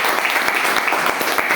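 Loud, sustained audience applause from friends seated in a classroom gathering, dense continuous clapping with no voices over it.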